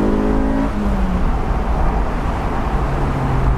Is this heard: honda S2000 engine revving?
yes